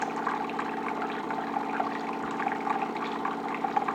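A Jura Impressa XJ5 coffee machine pumps hot water into a cup in a steady, even pouring hiss with a faint mechanical hum, continuous and close throughout, with no talk.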